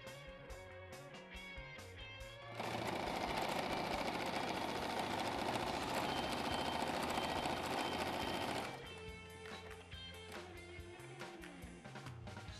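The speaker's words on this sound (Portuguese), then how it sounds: "vou passar outra costurinha aqui por cima para dar um charme" A sewing machine stitches fabric in one continuous loud, rapid whirring run lasting about six seconds, framed by quieter background sound before and after.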